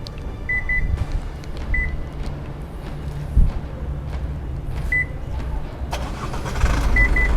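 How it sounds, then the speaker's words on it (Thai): An Isuzu Hi-Lander 1.9 DDI pickup's engine is started by remote key: a few short electronic beeps sound over a steady low engine rumble, with no talking. "ก็คือ สตาร์ทที่ตัว รีโมทได้เลย แล้วก็ดับได้เลยนะครับที่ตัวรีโมทนะครับ"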